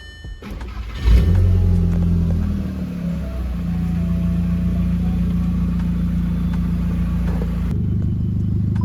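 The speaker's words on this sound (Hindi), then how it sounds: "गाड़ी स्टार्ट करो।" A stage 2 Skoda Octavia vRS cranks and fires up close by with a loud surge, then settles into a steady, rumbling idle with its exhaust note during a coolant change.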